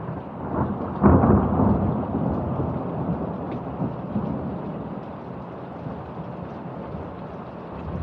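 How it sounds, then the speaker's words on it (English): A thunderstorm with torrential rain: a loud rumble of thunder rolls in early over a steady roar of heavy downpour that continues to the end. "we had a thunder and lightning storm this afternoon with torrential rain"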